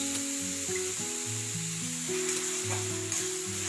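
Tomato paste sizzles with sautéed onions in a pan, a steady frying hiss running under louder background music throughout.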